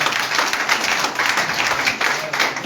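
Party members at a political meeting keep up vigorous applause, a thick, continuous layer of many hands clapping with slight swells in intensity.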